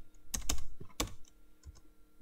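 Keys clatter on a computer keyboard in two short bursts, close and crisp, then a few lighter isolated taps trail off.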